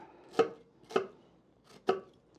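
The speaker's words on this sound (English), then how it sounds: "So let's dice an onion, shall we?" A knife dices an onion on a cutting board in four crisp, separate chops at an uneven pace, close and clear with quiet pauses between strikes and no talking.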